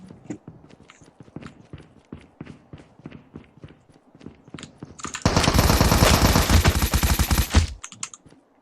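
Gunfire in the Call of Duty Mobile video game, with scattered single shots and taps giving way to a loud, sustained automatic burst lasting a few seconds before stopping abruptly, followed by a few more isolated shots.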